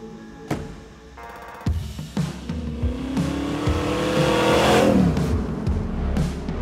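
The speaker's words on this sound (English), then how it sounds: "Today, company test driver Bam is taking it out for a spin." An AMX Javelin muscle car driven hard, its engine revving and rising in pitch through acceleration with tire noise and a few sharp mechanical bangs, loud and close throughout.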